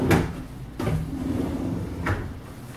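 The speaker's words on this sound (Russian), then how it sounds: "Или вот мы выдвигаем ящики." Kitchen drawers with a handleless GOLA profile are pulled out, giving three separate soft thuds and sliding rumbles spaced about a second apart, fairly close, with no talking.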